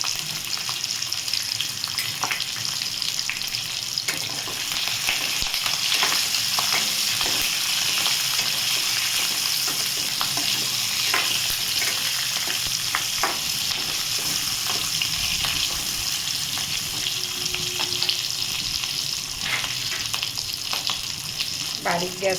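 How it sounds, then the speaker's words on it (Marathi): Stuffed capsicum cooks over a low gas flame in a pan, giving a steady, close, unbroken sizzle and crackle of oil with scattered small pops, heard alone throughout. "बारीक गॅस करून 5 मिनिट शिजवते"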